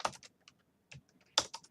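Keys clatter on a computer keyboard during coding, a few quick bursts of close, crisp clicks separated by short pauses.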